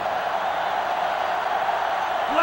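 Steady stadium crowd roar from a sellout home crowd in the NCAA Football 07 video game, a Georgia Tech at Miami matchup, sustained and dense throughout without clear peaks.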